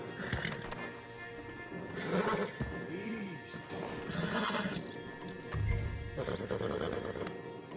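Horses in the Red Dead Redemption 2 video game neigh and whinny several times over clip-clopping hooves, with rustling movement and faint voices in the background.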